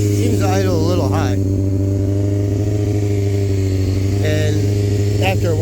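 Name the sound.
Honda CBR600 F4i motorcycle engine idling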